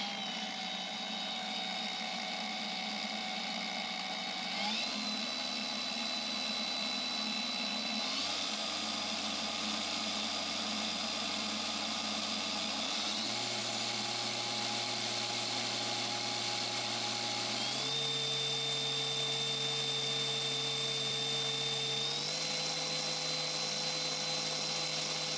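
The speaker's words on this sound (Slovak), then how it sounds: "Ďalej sa pozrieme aj na otáčky stroja bez zaťaženia." A brushless 1300 W HERMAN WX-12506 angle grinder spins unloaded with a steady high motor whine that steps up in pitch several times as its speed setting is raised, with no speech.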